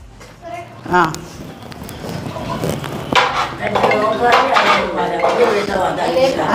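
Metal vessels and pots clatter and clink as they are fetched and handled in a home kitchen, with scattered bangs and scrapes under ongoing talk.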